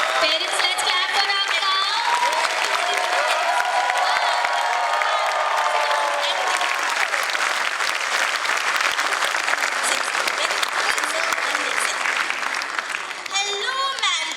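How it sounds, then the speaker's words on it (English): A roomful of parents claps for a child, steady and loud throughout, with children's voices and shouts mixed in and a brief spoken name near the start. "Parents, let's clap for"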